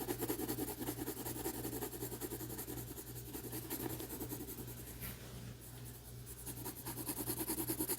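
Colored pencil drawing on paper, a continuous close scratchy rubbing from steady back-and-forth shading strokes, with a brief lighter pause midway before the scratching resumes.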